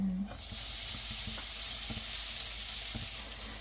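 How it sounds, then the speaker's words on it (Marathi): Poppy seeds and grated coconut stir-fried in ghee for modak filling give a steady close sizzle throughout, with soft irregular scraping taps of a spoon stirring in the pan and no talk. "दोन चमचे तूप टाकून घेतले त्याच्यामध्ये आणि त्यानंतर मग खसखस काय आधी भाजलेली नव्हती त्यात तुपामध्ये खसखस थोडी भाजून अशी हलवली"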